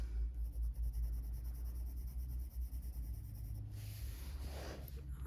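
Polychromos coloured pencils shade skin tones on the slightly odd paper of a colouring book, giving a soft, steady scratchy rub close up with a brief louder scrape near the end.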